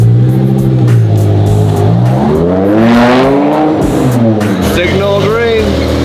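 Twin-turbo Ferrari F12 engine revving hard toward high rpm on a Beverly Hills street, a loud, close, rising-and-falling wail repeated in several surges with voices talking over it.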